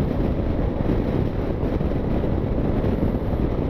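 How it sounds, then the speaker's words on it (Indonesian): Strong, steady wind roars and buffets a microphone during a motorcycle tour near Indramayu, a dense low rumble that stays loud and unbroken with no voices over it. "Anginnya kencang."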